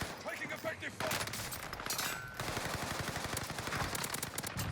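Automatic gunfire in Call of Duty: Warzone, with dense rapid bursts running nearly the whole time, loud and close, and a brief quieter gap partway through.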